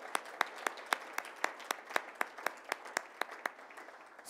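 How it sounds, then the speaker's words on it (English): An audience at a school Hispanic Heritage Month awards ceremony gives a round of applause, with regular clapping peaks steady across the hall, moderately loud and without speech. "Let's give him a round of applause."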